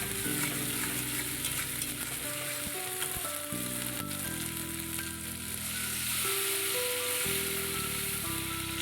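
Mustard paste curry with slit green chillies sizzles steadily in a pan while it is stirred, giving a continuous close frying hiss with repeated scraping strokes and no talking.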